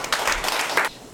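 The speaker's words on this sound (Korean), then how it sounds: "박수로 한번 환영하겠습니다." A church congregation gives a short burst of applause to welcome a speaker, a brief patter of clapping that swells and cuts off within about a second.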